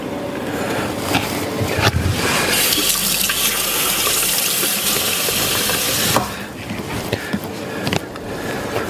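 Liquor poured in a steady, loud stream onto a bar top during shot-making, running continuously for several seconds before tapering off with a few scattered splashes.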